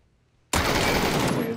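A sudden burst of PUBG machine gun fire erupts after a quiet moment, a loud, dense stream of rapid shots that keeps going for about a second.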